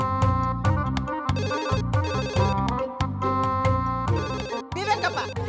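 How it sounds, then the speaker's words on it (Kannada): A telephone rings with a loud, melodic electronic ringtone, repeating its tonal pattern steadily and close by for several seconds with no talking. "ವಿವೇಕಪ್ಪ ಮಾಡ್ತಿರ ಕ್ಯಾಮೆ ಬಿಟ್ಬಿಟ್ಟು ನಾನೇ ಬಂದು ಫೋನ್ ಎತ್ಬೇಕಾ?"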